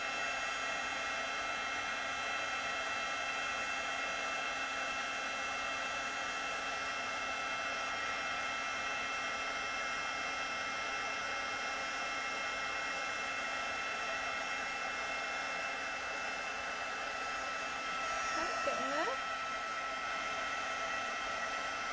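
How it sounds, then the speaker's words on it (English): Heat gun melting embossing powder on vellum, a steady close whooshing blower hum running continuously at moderate volume. "tap off the excess, and then we're going to heat this."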